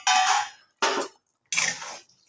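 Fried prawns tipped into a pot of potato curry for chingri rasa: three short, bright, hissing scrapes of metal on metal with brief silences between them.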